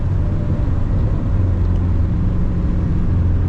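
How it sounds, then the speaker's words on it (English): Steady low engine drone and road rumble from a C7 Corvette cruising on an early-morning drive, heard from inside the cabin, continuous and fairly loud with no talk. "See how I can hear the car."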